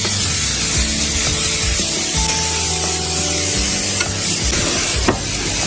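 Flank steak and vegetables sizzling on a Blackstone flat-top griddle, a loud continuous hiss with spatula scrapes and flips cutting through at intervals, no voices.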